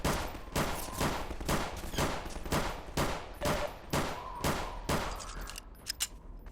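Repeated gunfire from Half-Life 2: Episode 3 rings out in a regular series of about a dozen loud shots, each with a short decay, close and unaccompanied by talk.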